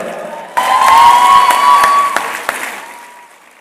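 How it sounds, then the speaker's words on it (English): Convocation audience applauding an award recipient, clapping that bursts in loud and dense, holds for about two seconds, then thins and fades, with a little cheering. "As she receives the award, you can applaud her."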